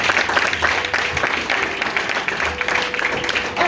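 Congregation applauding during a Sunday church service at a tabernacle, steady dense clapping sustained throughout with some voices mixed in.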